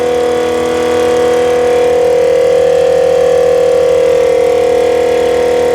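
A Mitsubishi Lancer's engine idles steadily at close range while running a 12V air compressor, a loud and unbroken drone with a sustained tonal hum and no voices.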